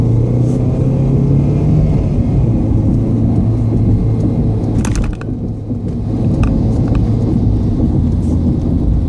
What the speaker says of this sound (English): the car gearing down